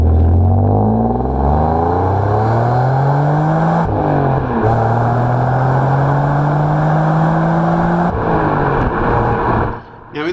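Alfa Romeo GTV with a 3.0 litre Busso V6 pulls hard through the gears, engine note climbing steadily, dipping briefly at each shift, then rising again, loud and close throughout.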